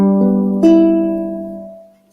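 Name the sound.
ukulele strummed in high G tuning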